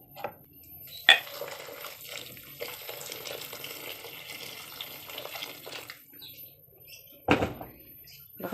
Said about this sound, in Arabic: انا مجهزه ميه مغليه، هنزل عليهم بالميه المغليه